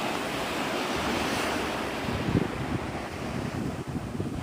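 Wind blowing steadily along Navarre Beach, Florida at sunrise, a broad continuous rush mixed with surf and gusting microphone buffeting, fairly loud and close, with no voices.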